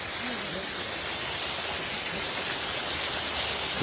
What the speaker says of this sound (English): Let's stand up here and look at the waterfall.